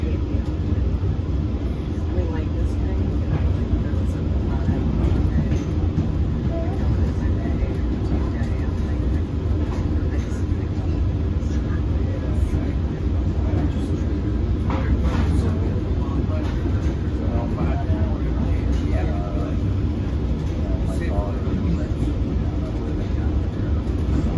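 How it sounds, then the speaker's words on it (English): A Long Island Rail Road train running non-stop on an evening run toward Montauk, heard as a steady, loud rumble and roar throughout, with rail and wheel noise but no clear separate events. "This train normally doesn't run that way."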